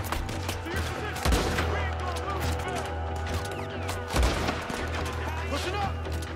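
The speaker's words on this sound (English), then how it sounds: "I'm just gonna shoot the dynamite." Gunfire and dynamite being shot in a Red Dead Redemption 2 robbery shootout, with a rapid, dense run of shots and two heavier blasts standing out, over a steady game background.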